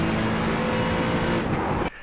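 An Acura GT3 race car in the iRacing game at Road America, its engine droning loud and steady before dropping off abruptly under hard braking near the end.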